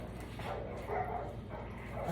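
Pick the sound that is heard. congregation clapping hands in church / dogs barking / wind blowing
dogs barking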